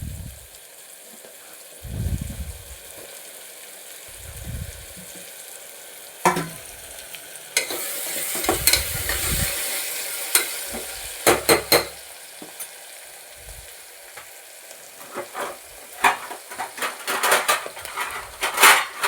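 Raw mango pieces and mint sizzle in a pan as a spoon repeatedly stirs and scrapes the metal, with clinks and bursts of frying between quieter moments.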